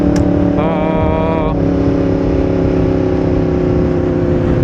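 A superbike with an Akrapovič exhaust runs with a steady, loud engine drone throughout, and a brief higher-pitched rise partway through suggests a short rev.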